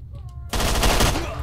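A sudden burst of rapid automatic gunfire in S.T.A.L.K.E.R.: Shadow of Chernobyl crashes in loud and dense after a quiet moment, then rattles on steadily.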